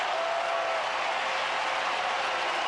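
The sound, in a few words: baseball stadium crowd cheering for Astros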